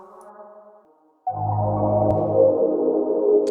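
A sustained, rich synth chord swells in suddenly after a brief quiet passage of softer tones, holding steady and fairly loud.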